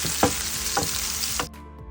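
Steady hiss and crackle of chopped shallots sizzling in hot oil, with a few stirring scrapes and a sudden cut-off near the end.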